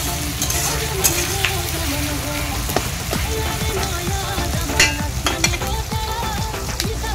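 Tomato and onion with salt and turmeric frying in a wok, a continuous close crackling sizzle with scattered sharp pops and stirring scrapes throughout.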